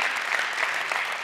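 Audience applause at the Skoll World Forum 2019 closing plenary, a steady dense wash of clapping from a large crowd, loud and continuous throughout a brief moment with no talk over it.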